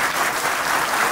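An audience at a Nellore bullion merchants and pawn brokers association gathering claps loudly in a dense, continuous burst of applause.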